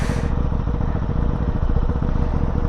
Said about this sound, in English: Today I am riding one of two working Ducati Hypermotard